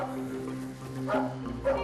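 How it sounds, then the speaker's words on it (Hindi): A dog barks and yelps in a few short, uneven calls in the middle distance, heard over a steady low background hum in a Hindi crime drama scene. "इस कुत्ते का भौंकना आपको अजीब नहीं लग रहा?"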